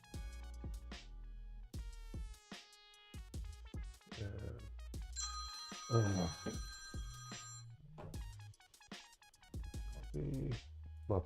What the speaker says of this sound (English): You have the same ringtone.